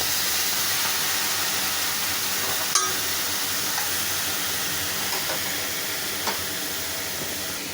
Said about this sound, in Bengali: পাঁচফোড়ন আর শুকনো মরিচ তেলে নিছি।